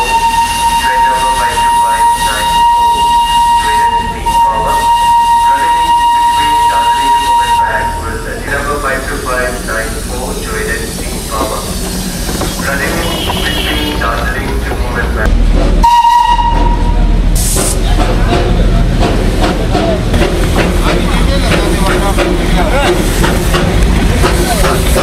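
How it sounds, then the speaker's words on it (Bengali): A Darjeeling toy train steam engine gives a long steady whistle in the opening seconds, then a shorter blast later, over continuous chugging and rail noise with people talking throughout. "দার্জিলিংয়ের টয় ট্রেনের স্টিম ইঞ্জিনের আওয়াজটা আমার বড্ড টানে"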